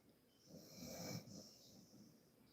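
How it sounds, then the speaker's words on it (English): A dog snores close by, a single soft drawn-out breath swelling and fading, faint and quiet against a still room. "Excuse my dog, he's snoring right here next to me."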